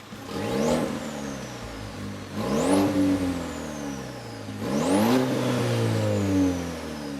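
A 2023 GMC Canyon AT4X pickup truck engine revs up three times in a row, each climb rising in pitch then easing back, with a steady rough idle between.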